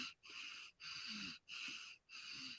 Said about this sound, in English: when you exhale, you don't fully exhale before you take the next breath, and it's called the circular breathing